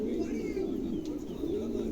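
Pigeons in a Bengali pigeon seller's collection coo in a continuous, rolling low murmur, close and steady for the whole stretch before cutting off abruptly.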